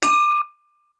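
A single bell rung at a Rotary club meeting gives one bright strike that rings briefly and then fades, loud and close, with no talking over it.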